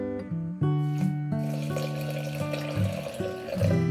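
Vinegar is poured into a pork rib marinade for the BBQ, making a steady, close liquid stream with a ringing, bubbling tone that lasts throughout without talk.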